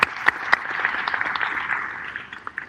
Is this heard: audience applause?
yes